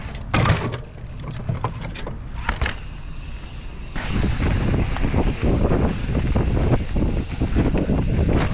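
Gusting wind buffets the microphone on a mountain bike trail in Germany, a steady broadband roar that swells louder partway through, with rustling and scraping noises underneath.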